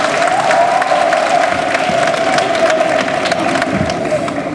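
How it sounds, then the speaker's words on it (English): Sustained, dense applause from a large audience at an 8th grade middle school graduation ceremony, steady and loud throughout with crowd noise and scattered cheers. "Please, another round of applause."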